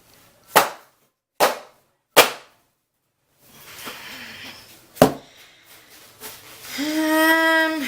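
Three sharp, loud bangs of a cold-process soap mold knocked down on a hard surface, then a softer clatter, another bang and a rising tonal scrape at the end.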